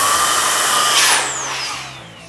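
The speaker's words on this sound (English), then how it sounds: "So this is the blower here." A Milwaukee M18 brushless precision blower whines at high pitch close by, then powers down with a falling tone as the motor spins to a stop.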